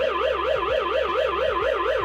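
A home security alarm siren wails continuously in a fast, regular up-and-down warble, close and unbroken.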